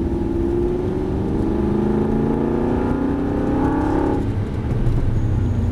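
An Aston Martin V8 Vantage engine revs up, pitch climbing steadily as it accelerates out of a turn, loud and close, then briefly drops before picking up again.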